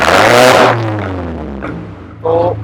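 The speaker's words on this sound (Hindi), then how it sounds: "तो एग्जॉस्ट भी आपने सुन ही लिया कितना लाउड है इस कार का" A red, fully modified Audi A4 revs hard through a loud aftermarket exhaust, one sharp roaring blip that decays into a descending idle burble, then a second shorter rev, heard close up.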